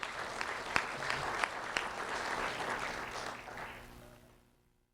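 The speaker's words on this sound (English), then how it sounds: "a round of applause for Christian Merritt, please" Audience applause at an award ceremony, a sustained round of clapping with a few sharper claps near the start, holding steady and then fading out to silence near the end.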